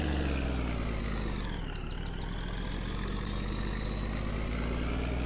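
A bus engine in the video game My Summer Car hums steadily, dipping briefly in pitch before settling back into a constant drone.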